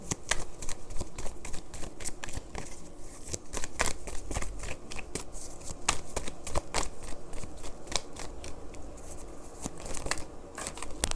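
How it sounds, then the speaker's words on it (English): Tarot cards riffle and slap in rapid, irregular bursts as they are shuffled, close and fairly loud, continuing throughout with no talking. "I don't have a table to shuffle like for cards, so like every time they fall, they just fall on the floor"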